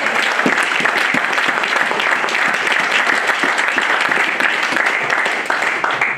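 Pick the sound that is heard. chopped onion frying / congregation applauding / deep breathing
congregation applauding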